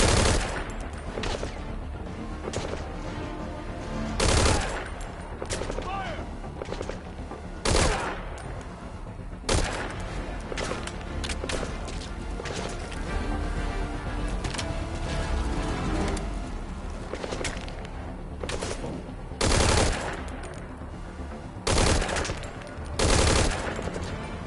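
Sustained gunfire in Metal Gear Solid 5, with bursts of rapid shots and loud, close blasts recurring throughout a busy firefight.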